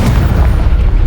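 A Confringo fire spell blast in the video game Hogwarts Legacy, one loud booming burst with a heavy low rumble that fills the whole short moment.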